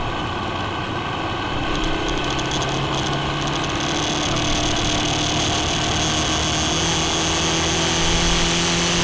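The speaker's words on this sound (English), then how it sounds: "I think I'm going downhill at this point. Kind of hear me coasting a little bit." A Yamaha XT250 dual-sport motorcycle coasting downhill on unfamiliar roads, its engine a low steady drone under loud continuous wind rush, with no changes in pitch throughout.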